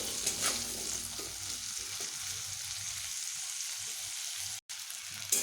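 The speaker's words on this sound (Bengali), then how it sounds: "আলুগুলোকে আমি এইভাবে আরেকটু ভেজে নেব" Potatoes sizzle steadily in a pan as they fry with salt, a continuous crackling hiss broken by a few stirring scrapes, close and fairly constant throughout.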